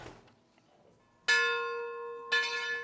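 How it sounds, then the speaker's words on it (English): Church bell at the Iglesia de San Antonio in Tiffany, Colorado, rung by hand, strikes twice with bright metallic clangs whose long ringing tones hang and decay after each hit. "Tony Semler rings the church bell at the Iglesia de San Antonio in Tiffany, Colorado."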